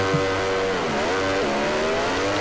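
Ducati MotoGP bikes in MotoGP 19 launch off the grid at the Red Bull Ring, a loud continuous engine howl rising through gears with layered revving from the pack close by.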